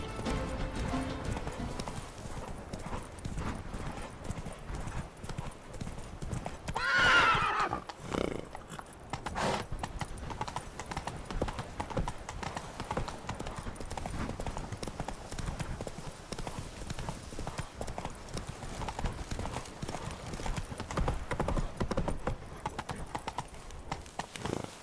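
Hooves of the horse Roach clip-clop in a fast, steady galloping rhythm throughout in the Witcher 3 video game, with a brief whinny partway through and faint game ambience underneath.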